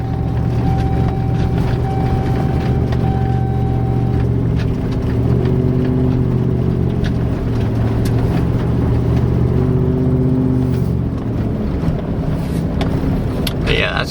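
A Chevrolet Silverado idles with a manifold exhaust leak, giving a steady low droning rumble with ticking and faint whine over it, continuous and close throughout.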